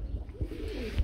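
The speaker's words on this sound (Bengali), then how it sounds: "দেখার মতো একজোড়া এক্সিবিশন কবুতর ভাই" A pair of exhibition pigeons gives a brief, low, soft coo, faint and muffled against a quiet background.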